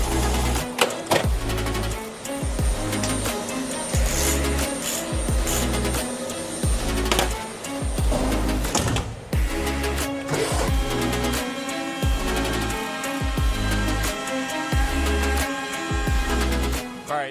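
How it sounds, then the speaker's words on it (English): A CNC milling machine cutting a part, a steady mechanical whir and grinding hum with dense chattering texture and periodic surges, running loud and continuous throughout with no talk. "Let's get this cut up and we'll start making some chips."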